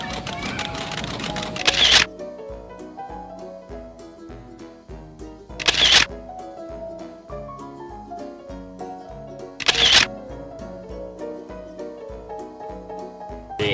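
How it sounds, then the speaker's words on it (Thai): Three sharp camera shutter clicks spaced about four seconds apart, each a bright burst standing out over steady background music. "นี่แล้วกดชัตเตอร์ไปด้วย"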